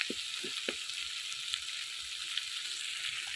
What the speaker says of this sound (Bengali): তো এখন এই পাশটা আমি একটু হালকা ভাজা দিয়ে নেব।